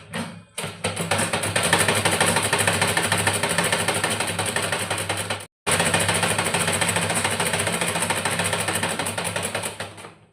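A sewing machine stitching a blouse sleeve, a fast steady mechanical rattle that runs continuously, stops briefly in the middle, then resumes, close and loud with no talk.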